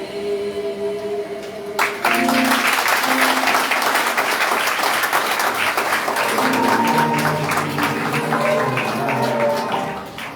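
Congregation at an evangelical church service in Caradeux, Haiti applauding: dense, sustained clapping rises abruptly after a soft sung tone and fills the space for about eight seconds before tapering, with faint voices underneath.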